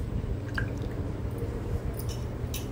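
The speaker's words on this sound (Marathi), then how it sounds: "हे आपण तुरटीच्या पाण्यामध्ये सगळे चिप्स स्लाइस टाकणार आहोत" Sliced potato chips dropped into a bowl of alum water: soft wet splashes and squishy drips, a few sharp little plops over a low steady background hum, close up and fairly quiet.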